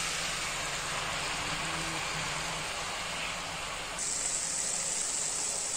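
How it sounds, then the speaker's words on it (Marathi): Fenugreek leaves sauté in oil in a large pan, making a continuous, even hissing sizzle that grows brighter partway through, with no talking. "मेथी आता मी छान तेलात परतून घेतली"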